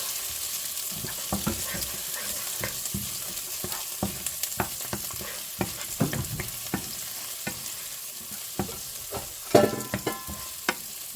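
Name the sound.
onions frying in a pan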